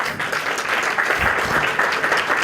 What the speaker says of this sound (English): Can I have her a big round of applause